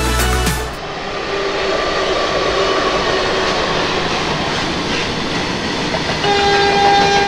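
The Barmer–Howrah superfast express rumbles along steadily, a constant broadband roar of wheels and carriage noise heard from inside the train, with no talk.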